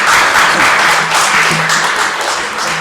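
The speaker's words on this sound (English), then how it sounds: "Applause for you standing up." Applause fills a council chamber as members clap for a standing councillor, a dense, steady patter of many hands lasting a few seconds and fading slightly toward the end.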